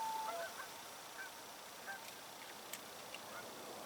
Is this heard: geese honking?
yes